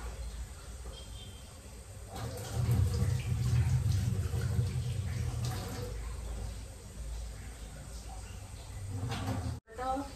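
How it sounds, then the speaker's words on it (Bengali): Flattened rice (poha) rinsed briefly in water, a low sloshing and splashing that swells midway and continues steadily, with a voice speaking faintly in the background. "চিড়েটা এবার একটু জলে ধুয়ে নেব।"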